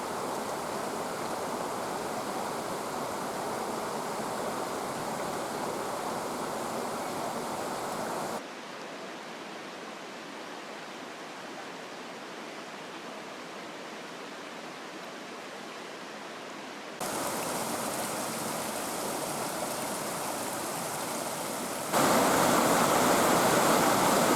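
A river crossing in Colombia, with water rushing steadily over rocks in a continuous broadband roar, louder at first, then softer and more distant for a stretch before swelling close again.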